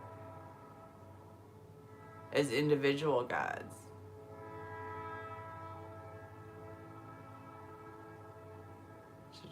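A train horn from a played clip sounds in a loud cluster of blasts near the middle, over a steady background hum, with a voice talking faintly before and after.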